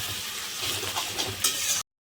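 Ginger, garlic and tomato sizzling in a pan of mutton curry, a close, steady hiss with stirring scrapes throughout that cuts off abruptly near the end.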